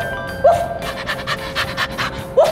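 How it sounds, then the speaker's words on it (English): A dog pants in rapid, steady breaths close by, with a couple of brief squeaky toy-like chirps at the start and end. "Wait a second, what's this? It's a dog!"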